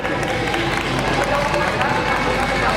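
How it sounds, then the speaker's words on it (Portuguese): Applause fills a lecture hall at an anime convention, a dense, continuous wash of clapping and crowd noise that holds steady and fairly loud throughout. "Uma salva de palmas, gente, por favor."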